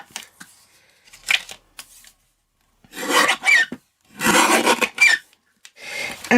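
Paper envelope flap for a handmade card being straightened, giving several short dry rasping, rubbing bursts of paper handling with pauses between, close and fairly loud.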